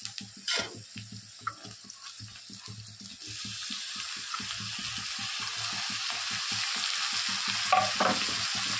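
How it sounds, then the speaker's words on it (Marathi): Chopped onion hits hot oil for a spicy sprouted horse gram dish. A few scrapes and taps come first, then a loud, even sizzle rises and holds steady, with a couple of utensil knocks near the end. "आता टाकत आहोत कांदा"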